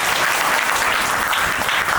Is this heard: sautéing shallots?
no